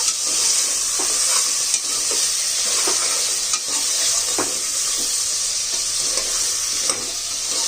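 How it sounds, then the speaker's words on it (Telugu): Ginger fries in hot oil for a mutton head curry, giving a steady, close sizzle with light stirring clinks throughout and no speech. "ఇది కాసేపు వేగాలి నూనెలో, మనం పచ్చివాసన పోయేదాకా"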